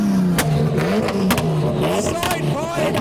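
A car at an outdoor car show revs its engine through side-pipe exhausts, a loud throaty drone that rises and falls with sharp blips, close by, while people talk over it.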